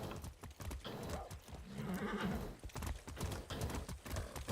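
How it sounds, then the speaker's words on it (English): Hooves clip-clop in a steady, fairly close rhythm as a horse is ridden in a video game, with a soft whinny partway through and no talking. "I'm taking the horse."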